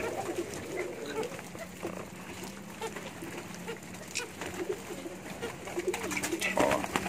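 A male breeding pigeon of the Merpati Jet Metic Gambir line coos softly and repeatedly against a busy, noisy outdoor background.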